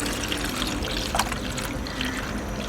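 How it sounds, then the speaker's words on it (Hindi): Milk poured into a pot for cream chaat gives a steady, close liquid trickle lasting throughout, moderately loud with no talking. "इसमें हम आधा किलो दूध ऐड करेंगे।"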